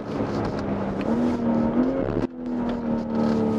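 BMW X3 M40i engine braking and downshifting into a corner, a steady close droning engine tone that dips sharply at a shift blip then resumes a lower rising hum, with no talk.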